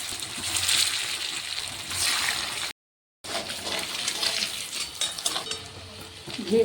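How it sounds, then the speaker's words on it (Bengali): Handfuls of mashed soybean mixture fry as fritters in hot oil, giving a steady bubbling sizzle. It cuts out briefly partway, then resumes with faint clinks of utensils against the pan and no voices. "আমি এবার মুঠি মুঠি করে ভাজতে দিলাম।"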